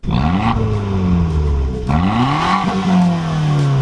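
A 2013 Fiat 500 Abarth with no muffler revs hard and loud, its raw exhaust note climbing, dropping briefly, then rising again in a second blip, close and unbroken.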